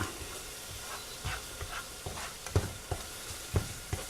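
Finely chopped onion and garlic fry in a pan for sweet and sour sauce, just beginning to brown, giving a soft steady sizzle broken by scattered stirring scrapes and taps, close and fairly quiet with no talk.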